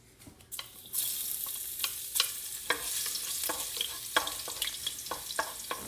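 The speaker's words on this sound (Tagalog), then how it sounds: "So we have to saute this one first." Ground meat with garlic and white onion sautéing in a pan: a steady close sizzle broken by repeated scraping stirs of a utensil against the pan, no talking.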